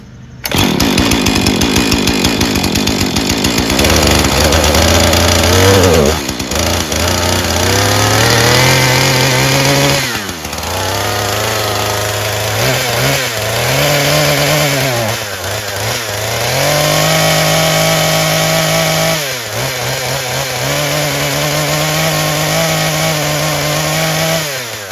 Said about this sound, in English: I'll start her up,